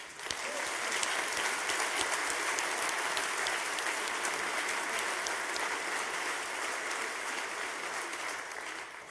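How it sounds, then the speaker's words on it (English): A crowd at the HackZurich 2017 opening ceremony applauds steadily, dense clapping filling the room at an even level for several seconds before easing slightly. "let's give all the helpers another applause"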